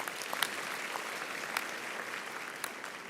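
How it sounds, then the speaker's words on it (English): Audience applause at a university graduation ceremony, a sustained patter of many hands clapping at moderate distance, fairly soft and even throughout with no voices. "Can we give her a round of applause, please?"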